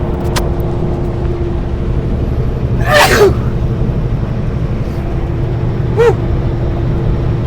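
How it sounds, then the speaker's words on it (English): A single loud sneeze bursts out inside a truck cab over steady engine and highway road rumble, followed a few seconds later by a second, smaller sneeze-like burst. "I'm gonna sneeze."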